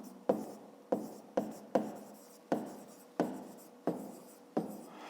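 Pen on paper during a fifth-grade math exercise on volume: eight quiet, evenly spaced strokes, each a sharp tap trailing into a soft scratch, with no talking.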